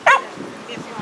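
A dog gives a short, sharp bark at a dog show award ceremony, loud and near at the start, followed by faint background talk in the hall.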